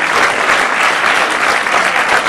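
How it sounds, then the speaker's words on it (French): A film festival awards ceremony audience at PIFFF 2011 applauds loudly, a thick, continuous roar of many hands clapping that stays even throughout, with no voices on top. "donc on les applaudit."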